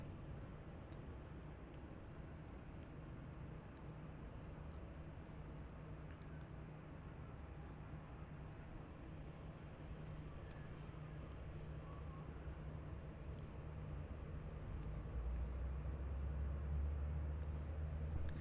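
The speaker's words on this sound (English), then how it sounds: "Beautiful, beautiful plane." Airliner at Adelaide Airport, a steady low roar and rumble that swells gradually louder toward the end, heard from a spotting position outdoors.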